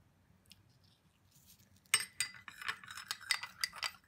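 Ground ginger, ginger juice and lemon juice are stirred in a small bowl with a utensil, giving a run of quick, close scraping clicks that start abruptly after a near-silent pause.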